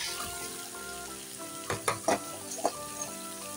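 Chopped bottle gourd fries in a cooked spice paste while a utensil stirs it, a soft sizzle broken by several distinct scraping and clattering strokes in the second half.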